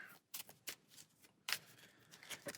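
A deck of cards for the Arkham Horror card game is shuffled at a table, several quick riffling bursts of rapid papery flutter, faint and close, without talk.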